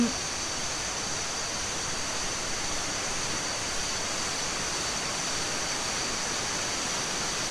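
A resort waterfall roars steadily into a soaking pool, a broad unbroken rush of falling water close by that never changes in loudness.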